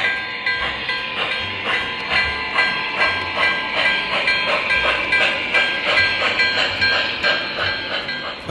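Model steam locomotive sound effects from an MTH O scale RailKing 4-6-2 Forty Niner engine: rhythmic chuffing bursts and hissing steam, repeating steadily and loud throughout.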